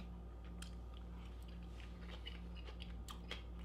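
Close, faint chewing of spaghetti squash with pesto, soft crunches from the seeds in irregular bites over a constant low hum.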